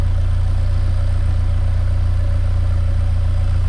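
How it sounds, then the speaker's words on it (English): A 1990 Ford Ranger with a swapped remanufactured engine idles close up in a steady, even low rumble, with a suspected exhaust valve hanging open but the engine now smoothed out and running without surges. "You'll also notice it's running smooth."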